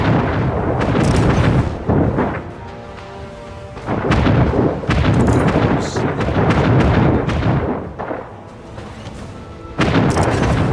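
Naval guns firing in Anno 1800, heavy booming blasts in several loud rounds with rumbling decay and short quieter gaps between volleys.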